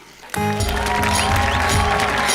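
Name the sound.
audience applause at award presentation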